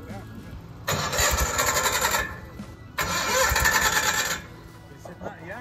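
A forklift engine cranks and catches on choke twice, each time giving a loud rough run of about a second or more before dropping away. Voices talk faintly between the attempts.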